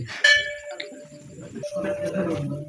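A temple bell at a Shiva temple gives one bright clang, then a steady ringing tone lingers while voices murmur nearby.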